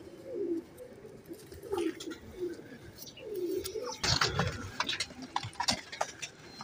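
Ferozpuri pigeons coo close by in a steady series of low, rolling coos, mixed with light ticks and rustling from the birds moving about.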